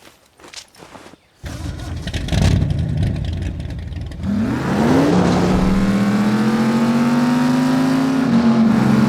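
A car engine in a dirt race in The Saboteur video game starts with some scuffing and thumps, then revs up loudly with rising whines and settles into a sustained, high, droning rev close up.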